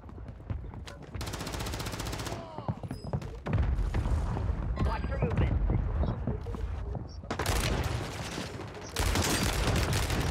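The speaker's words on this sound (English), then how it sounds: "It's a mortar." Bursts of gunfire and heavy blasts in a shooter video game, with a mortar explosion landing among loud, dense volleys, while players talk over the chaos.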